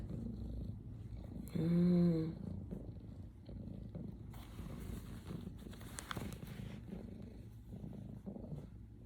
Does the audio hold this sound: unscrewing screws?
no